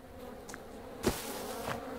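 A low, steady buzz of bees around hives in the video game Farm Together hums throughout, with a brief louder thump about halfway through.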